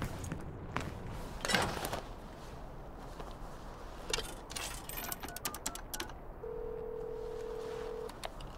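Phone dialing in the Devil May Cry 5 video game: a quiet run of short clicks and key-press beeps, followed by a steady tone near the end, with faint game ambience underneath.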